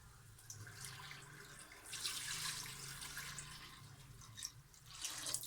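Chicken-boiling water, about 1.5 litres, is poured into a cooking pot in a home kitchen. It makes a steady splashing pour that swells and fades in surges, close and moderately loud, with no talk over it.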